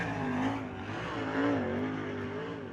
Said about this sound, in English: 15K car coming out onto the racetrack.